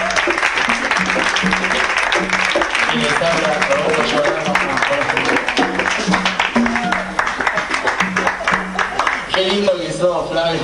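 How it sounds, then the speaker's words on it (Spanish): An audience at a concert by a jazz octet applauds warmly and continuously for the percussionists, with a voice talking over the clapping throughout. "Para Lucas López, un aplauso enorme."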